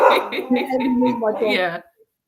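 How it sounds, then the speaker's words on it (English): A pet dog howls in a wolf-like way in a home during an online lesson, a rising, wavering wail in bursts that comes through under and between close conversational speech. "Sorry, my dog now thinks he's a wolf."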